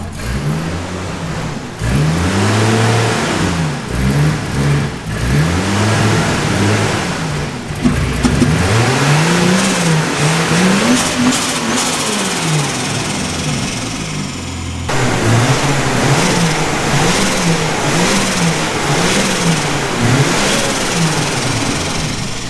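A car engine revs repeatedly in rising and falling sweeps, loud and close, with a brief drop near the eight-second mark before the revving resumes and carries on steadily.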